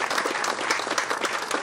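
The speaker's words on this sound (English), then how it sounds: "give yourself a round of applause for that" A crowd at an outdoor community event in Bonita Springs applauds, a steady, dense patter of clapping throughout with no voices on top.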